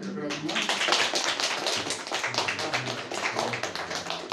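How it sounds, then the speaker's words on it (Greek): Sustained applause fills a chess championship award ceremony held by a municipality, with dense rapid clapping from a large crowd throughout and faint voices mixed in. "Χειροκρότημα"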